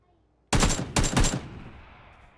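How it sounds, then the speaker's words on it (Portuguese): A close, loud burst of rapid gunfire in a video game, in two quick volleys, followed by a fading echoing tail. "Eu tô ouvindo o tiro"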